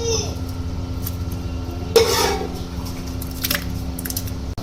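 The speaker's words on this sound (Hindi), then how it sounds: "इसमें हम ये जो कौरमा है ये डाल रहे हैं।" Spiced korma being added and stirred into lentils and grain that have cooked for about four hours for degi haleem, with a soft wet squish and one louder splashing burst midway over a low kitchen hum.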